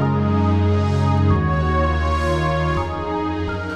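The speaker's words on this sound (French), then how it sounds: "allez, un orgue." A Korg Pa5X arranger keyboard plays an electronic organ sound: sustained, rich chords held loud and steady, with a couple of chord changes and no talking.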